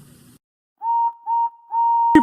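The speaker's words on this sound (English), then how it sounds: "Yes, I am," whistled Henry" A steam locomotive whistle blows three short, high, pure toots in a row, clear and moderately loud, followed by a sharp knock.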